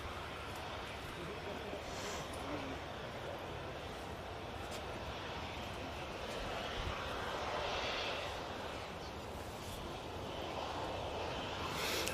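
Aegean Airbus A320neo arriving at Manchester Airport, a broad, steady jet roar that swells gently in the middle, mixed with wind noise on the microphone.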